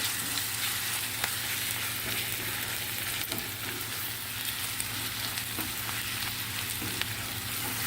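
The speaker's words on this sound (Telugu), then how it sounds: "ఇది ఇలా వేగుతుంది కదా ఇప్పుడు ఇందులో అల్లం వెల్లుల్లి పేస్ట్ వేస్తాం" Potato slices fry with ginger garlic paste for a spiced potato fry, giving an even, continuous sizzle with faint stirring scrapes and a low steady hum underneath.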